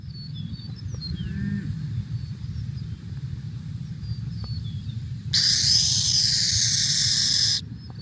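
A burrowing owl hisses in imitation of a rattlesnake's rattle: one loud, harsh, buzzing hiss lasting a couple of seconds, standing out sharply over steady low outdoor rumble and faint bird calls.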